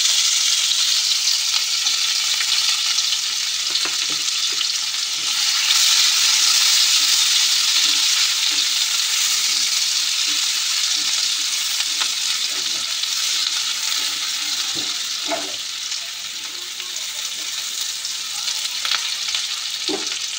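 Onion and garlic paste sizzles hard in hot oil in a wok, a dense, steady frying hiss that fills the whole stretch, with occasional soft clicks of stirring and no talk.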